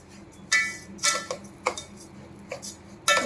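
Hot semolina being stirred with sugar in a metal vessel: a spoon knocks and scrapes against the pot in sharp, irregular clinks, about eight hits spread over a few seconds, fairly close and fairly quiet, with no talking.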